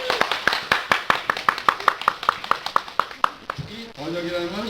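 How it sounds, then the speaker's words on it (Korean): Church congregation clapping in unison, about eighteen sharp, evenly spaced claps in a steady rhythm, followed by someone speaking. "제가 한국말 잘한다고 생각하는 걸 박수 한번 쳐요"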